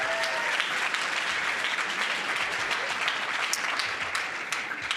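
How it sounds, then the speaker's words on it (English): Sustained applause from a student audience at a leadership event in Texas, a dense, steady wash of many hands clapping at even loudness throughout with no talk over it. "So give a round of applause to yourself."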